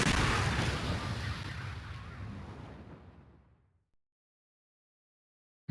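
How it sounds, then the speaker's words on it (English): A gunshot in the video game Ghost Trick fires as one loud, broad blast and rolls off into a fading tail over about three seconds, followed by silence. "Yeah, I'm gonna shoot."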